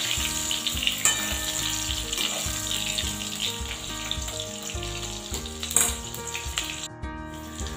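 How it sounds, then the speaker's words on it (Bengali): Eggplant pieces fry in hot oil with black cumin seeds and green chilli, a continuous crackling sizzle with occasional stirring scrapes and a brief tonal background hum. "দিয়ে একটু ভেজে নেব বেগুনগুলোকে।"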